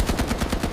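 Rapid suppressing gunfire in a World War II tank combat scene, a steady rhythm of sharp, loud bursts repeating about every tenth of a second like machine-gun fire, with no voices.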